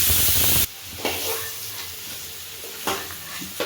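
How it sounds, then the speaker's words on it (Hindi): Vegetables for sabji sizzle and hiss steadily in a hot pan of oil, loud at first and then softer, with occasional stirring clatters. "अब इसको हल्के फ्राई करके निकाल लेना है।"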